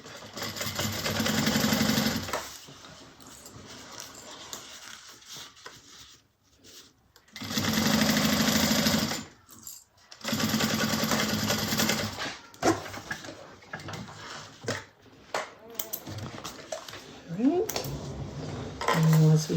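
A home sewing machine stitches across the top of a fabric bag in three long steady runs of fast mechanical whirring, broken by short pauses with small clicks and handling noises.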